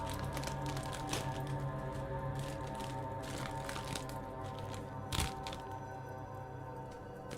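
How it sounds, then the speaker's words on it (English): A small bag of vinegar, onion and red pepper flavored potato chips crinkles and crackles with irregular sharp plastic rustles over a humming background, including one louder crackle near the end. "Sorry for the crinkling."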